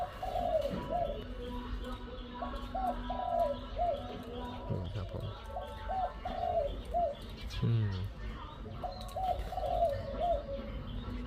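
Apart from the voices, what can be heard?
dove cooing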